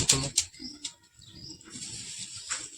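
A male pigeon beats its wings in a few sharp, close flutters at the start, followed by softer rustling and quiet handling noise, with faint murmuring in the background.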